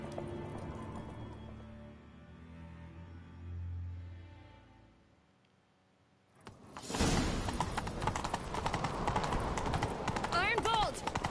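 In The Witcher 3: Wild Hunt, music fades out, then rapid hoofbeats of galloping horses come in loud and steady, with a whinny near the end.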